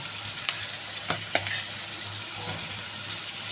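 Tempering for a bitter gourd curry, with spices and chilli powder frying in hot oil: a close, constant crackling sizzle with a few sharp spoon clinks and no talking.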